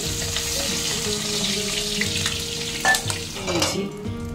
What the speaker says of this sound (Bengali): এবারে রসুন ফোড়ন দিচ্ছি।